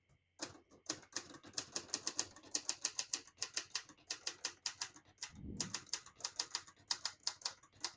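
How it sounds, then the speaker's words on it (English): Brisk typing on a 1970 Hermes 3000 portable typewriter, with rapid crisp key strikes in an uneven rhythm and a soft thud partway through, close and alone. "I'll type a sentence in red on the next line."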